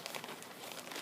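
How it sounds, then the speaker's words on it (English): A Chromebook case and its charger are pushed into a Ziploc plastic bag, giving a steady, soft crinkling and rustling of plastic at close range with no speech. "And then it needs to go into the Ziploc bag that you have enough of for each student."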